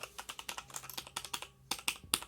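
Brisk typing on a Logitech K840 mechanical keyboard, a run of crisp close-up keystroke clicks in an uneven rhythm with a brief pause partway through, then a few sharper, louder presses.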